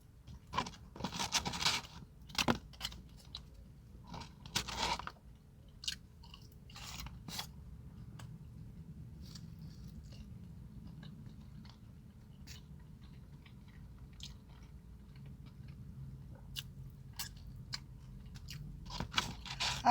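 Close, wet chewing and crunching of Applebee's riblets and fries, with bursts of loud crunches early on, then softer steady chewing alone, no talk.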